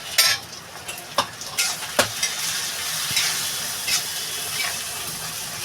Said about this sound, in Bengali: আর এদিকে দিয়ে দেবো এই যে ধনে গুঁড়ি আর জিরা গুঁড়ি